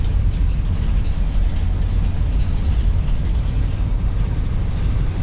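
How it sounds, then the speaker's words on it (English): Chevy Express van engine running with a slight valve tick or serpentine belt tensioner noise, a steady, dense low rumble that holds evenly throughout with no clear separate ticking. "So that noise is either slight valve tick or it is the Serpentine belt tensioner."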